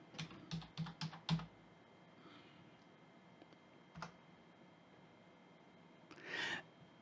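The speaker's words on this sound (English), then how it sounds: "Now I'm just going to type in clean." Keys clatter on a computer keyboard as a short command is typed into Windows 10 disk tools, a quick burst of close, crisp clicks followed by a lone keystroke and a softer rustle.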